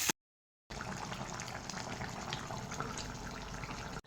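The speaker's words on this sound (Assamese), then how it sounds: "তাৰপিছত মাংসটো দি এনেদৰে লৰাই থাকিব লাগিব, তাৰপিছত ভাজিছোঁ।" Meat frying with onions in a pan sizzles steadily and densely, starting abruptly after a brief silent gap and continuing without pause.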